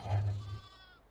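A lamb gives a single short bleat, close and fairly loud, fading quickly. It comes from a sheep farm where the ewes have just given birth.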